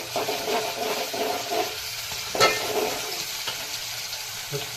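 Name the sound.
onions and tomatoes frying in butter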